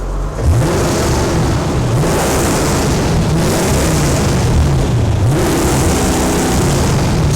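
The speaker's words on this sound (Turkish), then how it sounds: "Yani bu duyduğunuz ses 3800 RPM sesi." A car engine held against a soft rev limiter at 3800 RPM, loud and sustained, with a steady roar that pulses slightly as the limiter cuts in, and no talk over it.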